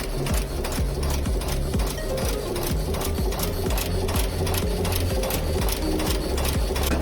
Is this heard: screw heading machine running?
yes